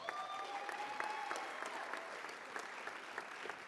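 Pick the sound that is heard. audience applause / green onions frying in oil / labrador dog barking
audience applause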